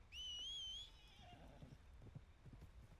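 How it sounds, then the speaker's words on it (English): A horse whinnies loudly and clearly in a Red Dead Redemption 2 style open-world video game, a single rising neigh lasting under a second, followed by softer clip-clop hoofbeats and low ambient game sound. "There's the horse."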